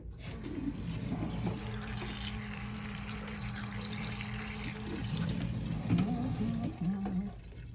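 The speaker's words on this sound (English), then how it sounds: "Rinse everything, wash all the vegetables" Tap water runs steadily into a kitchen sink as vegetables and peppers are rinsed for sofrito, a continuous soft splashing hiss with small knocks and shifting tones near the end.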